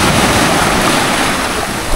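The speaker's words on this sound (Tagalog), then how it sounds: "Pero lang, ingay yung tubig." Loud, steady rush of water fills the night near a cemetery, a dense roar of churning flow with wind buffeting the microphone and no clear voices.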